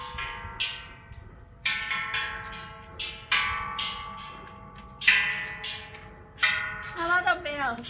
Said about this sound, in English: A lot of bells. Yeah, they're tuned. They're all tuned a little different.